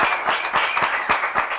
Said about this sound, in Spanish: Un aplauso a toda la gente que está aquí.